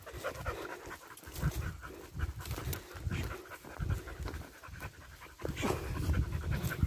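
Dogs panting close by on a pasture, quick rhythmic breaths overlapping, with light rustling movement around them.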